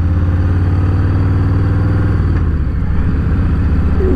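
A Harley-Davidson Softail Standard motorcycle engine drones loudly and steadily up close, its deep, even howl shifting slightly in pitch partway through.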